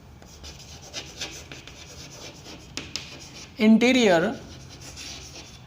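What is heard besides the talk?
chalk or marker writing on a board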